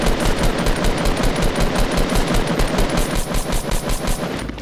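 Rapid automatic gunfire from an online battle game rattles loud and close in a dense, steady stream of shots, with no talking over it.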